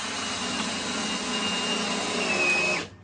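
A power drill whirs steadily while driving screws during a below-grade bathroom build, a close, continuous motor whine that cuts off abruptly near the end.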